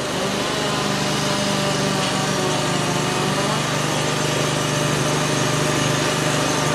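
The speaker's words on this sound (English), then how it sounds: "And he's gonna just start bringing the tractor in here." A tractor engine runs at a firewood processing site, holding a steady, loud mechanical drone with an even hum throughout and no pauses.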